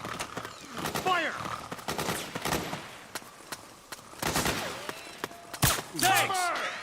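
Machine-gun and rifle fire in the Metal Gear Solid 4 video game, repeated sharp bursts and single shots spread across the scene, some loud and close, mixed with shouting soldiers' voices.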